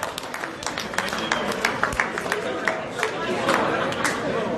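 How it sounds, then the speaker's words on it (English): Applause from a convention festival crowd after a tribute band act, steady clapping with crowd chatter mixed in throughout, moderately loud and continuous. "Give him a nice round of applause."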